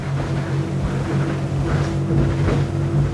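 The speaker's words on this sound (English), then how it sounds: "in a boat testing situation, I do need to give it everything it's got" Outboard engine on a Whittley AL Series 14.5-foot aluminium boat driven hard at full throttle near 6,200 RPM, trimmed up and skipping across the water: a steady, loud droning roar with a constant low hum and water rush throughout.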